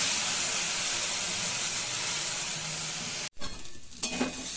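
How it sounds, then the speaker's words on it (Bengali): Red lentils frying in a pan with cauliflower and potato give a steady close sizzle with stirring scrapes, cut off by a sudden break near the end before softer, uneven frying resumes. "এরপর আমি দিয়ে দেব মুসুরির ডাল।"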